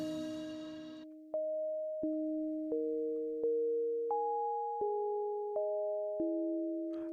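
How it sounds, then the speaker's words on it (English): A synthesizer plays small bell-like sine-wave tones, a sequence of clean pitched notes struck about every two-thirds of a second, each ringing and overlapping the next, with a brief buzzy tone at the start. "Just little bell sine waves."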